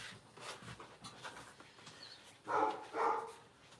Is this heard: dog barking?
yes